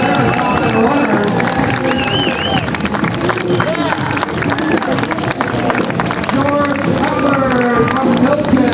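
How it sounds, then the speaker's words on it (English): Spectators at the Mississauga Marathon finish clap and cheer in a steady, lively roar as runners come in, with an announcer talking over the crowd and footsteps mixed in. "they love it when you cheer on into the finish"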